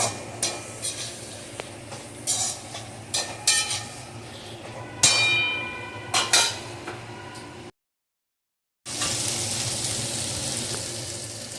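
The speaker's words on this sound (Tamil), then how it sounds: "கத்திரிக்காய் நல்லா வதங்குற அளவு இதை விட்டு விட்டு நம்ம வதக்கிட்டே இருக்கணும்." Eggplant and onion sautéing in a pan for a Tamil-style brinjal thokku, a soft continuous sizzle broken by sharp clinks of a spatula against the pan, cut by a brief silent gap before the frying resumes.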